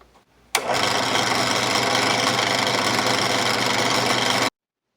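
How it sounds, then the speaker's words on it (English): A Central Machinery 8-inch drill press switches on abruptly and runs at medium speed, 1630 RPM, with a steady motor hum and rattling whir for about four seconds, then cuts off suddenly. "I have adjusted the drill press to move at its medium speed"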